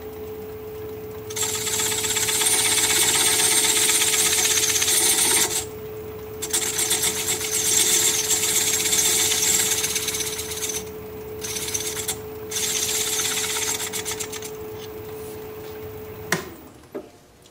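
Wood lathe spinning a bowl while a very small spindle gouge cuts a groove near the bottom, a steady loud scraping hiss with a constant motor hum, broken by several brief pauses as the tool lifts off.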